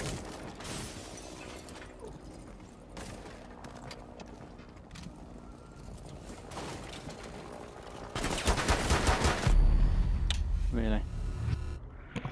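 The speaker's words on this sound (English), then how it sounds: "someone was able to shoot me in the head, despite the fact that I was shooting him in the head as well" Gunfire in the tactical shooter Rainbow Six Siege, scattered shots and short bursts over a busy game mix, growing louder and denser toward the end, with voices talking in between.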